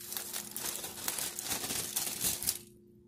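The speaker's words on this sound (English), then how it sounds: "I hadn't took the aluminum foil off of it yet, but I am now." Aluminum foil being peeled off a baked ham, a close, continuous crinkling and crackling that runs steadily for nearly three seconds before cutting off abruptly.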